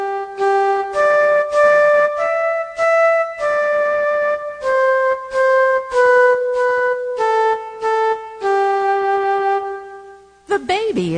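Flute playing a slow sequence of sustained melodic notes in a children's music class, each tone clear and steady with brief gaps between phrases, sounding close and moderately loud, ending with a short unrelated sound.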